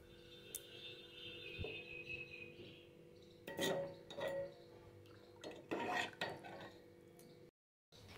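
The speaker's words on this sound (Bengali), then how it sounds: "চালটা দিয়ে আমি একটুখানি নাড়াচাড়া করে নিচ্ছি" A ladle stirs raw rice in a pot for payesh, giving faint scraping and clattering in a few short bursts against a quiet kitchen background.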